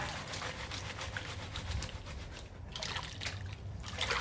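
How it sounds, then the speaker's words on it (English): Water trickles and splashes steadily as a gold pan is dipped in and out, washing loose material off the top; continuous close sloshing with no talk. "Just dip in and out, let the water pull that material off the top."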